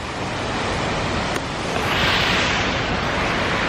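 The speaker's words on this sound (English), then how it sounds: "There's a waterfall." A waterfall roars as steady broadband rushing water, loud and close, with a constant wash that swells slightly midway and has no voices over it.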